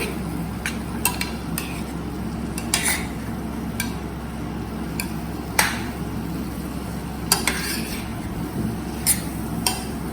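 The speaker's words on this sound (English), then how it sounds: "The flame is on high, okay? Because we are stirring." Metal spoon scraping and clinking against a pot as lauki is stirred over a high flame, sharp irregular knocks over a steady low hum of the stove, close and fairly loud with no speech.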